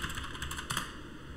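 Typing on a computer keyboard, a quick run of light clicking keystrokes, close but faint, with no voices.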